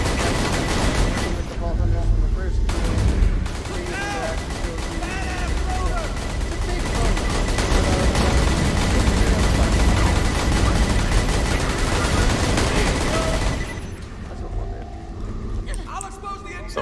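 Rapid turret and gun fire in the Borderlands 2 video game, a dense continuous barrage of shots and game effects layered under someone talking steadily.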